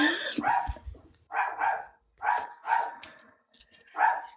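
Close dog barking during a live online debate stream: a run of distinct, fairly loud barks spaced about half a second apart, with short pauses between groups.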